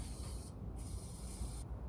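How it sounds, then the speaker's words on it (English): Cavity wax is sprayed from an aerosol into a car body cavity near the front end with the bumper fitted: two steady, close hissing bursts separated by a short pause. "Cavity in there, you can spray as well, and then all in here."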